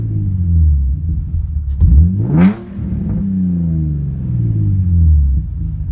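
An Infiniti G35 Coupe engine rumbles loudly at idle, then revs up sharply once with a raw, unmuffled exhaust roar through a cheap muffler-less dual exhaust before settling back into a deep idle.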